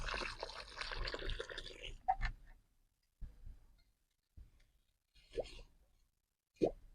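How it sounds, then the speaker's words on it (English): Water being poured into the ground around an earth rod, heard as a few separate splashy plops and gurgles with short silent gaps, after a denser burst of pouring noise at the start. "But the trick here is to continue adding water."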